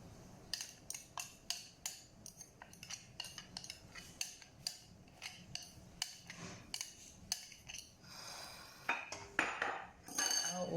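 Eggs, milk and nutmeg are whisked in a bowl, a utensil striking the rim in a quick, regular series of clinks, close and fairly faint, breaking into busier scraping and clatter toward the end.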